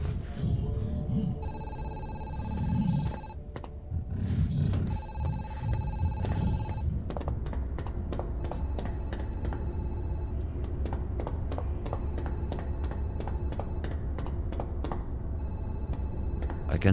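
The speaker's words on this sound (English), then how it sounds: "I have no clue where the phone's ringing from." A telephone rings repeatedly in the horror game Zoochosis, its electronic bell sounding in regular bursts with short gaps, moderately loud against a low ambient rumble and a few footsteps.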